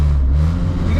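Loud, continuous low engine drone and rattling vibration inside the cabin of a Ferrari-engined Alfa Romeo 105 while driving, steady throughout with no talking.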